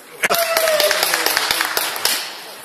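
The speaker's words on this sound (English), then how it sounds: "you can clap if you want" Audience applause at a Bradford West political debate, a spread of close claps with sharp individual hand strikes, mixed with a brief whistling tone and some voices.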